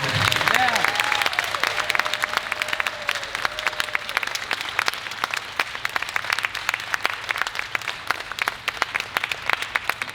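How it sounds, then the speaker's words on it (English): An audience claps for a Chinese-American youth orchestra at a Saturday afternoon concert in Oakland, a dense sustained patter of many hands near and fairly loud, with a voice heard briefly at the start. "Let's give a round of applause for our young musicians here."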